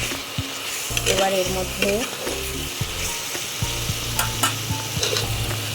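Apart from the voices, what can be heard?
stirring fried potatoes in a pan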